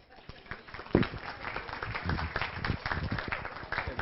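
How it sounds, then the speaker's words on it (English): Audience applause at a community meeting rises as a speaker is introduced, a moderate wash of scattered claps with some murmuring voices, fairly distant. "Give him a round of applause."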